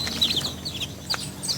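Nine village chicks peep in high, rapid chirps alongside their mother hen's low clucking, a brief close-up burst of overlapping calls.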